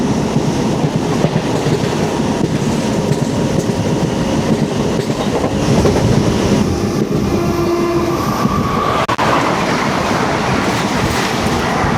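Express train number 22726 from Kannur to Coimbatore rushes past close by on a foggy day, a loud continuous rumble with wheel clatter and a short horn note partway through.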